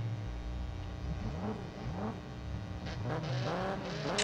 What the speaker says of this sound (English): Oh, beautiful launch off the line.